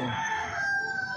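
A rooster crows in a long drawn-out call over the full second, fairly close and steady, with a faint bird-like harmonic tone and no talking.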